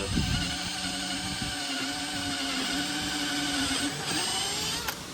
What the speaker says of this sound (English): I'm just going to drill some pilot holes in it.